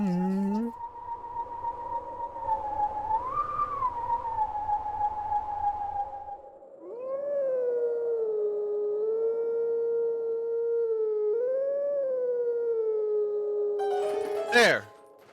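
A long, wavering tonal howl in a video game rises and falls in pitch, sustained and loud over a pulsing low drone, ending in a sharp burst.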